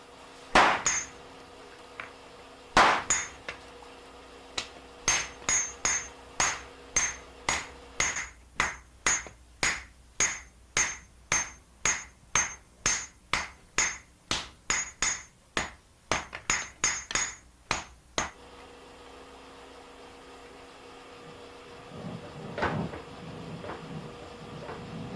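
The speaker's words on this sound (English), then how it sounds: "The head portion is heated in the furnace to nearly 1100 degrees Celsius and shaped by hammering" Steady, ringing hammer blows strike a blade head heated to nearly 1100 degrees Celsius in a furnace, dozens of evenly spaced metallic clangs close by, then the pounding stops and a low rumble remains.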